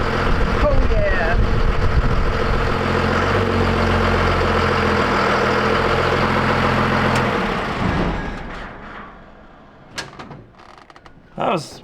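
A Cummins diesel engine in a Ford Dentside pickup truck runs loud and steady for several seconds, then cuts off, leaving a few knocks and clunks that sound like a door closing.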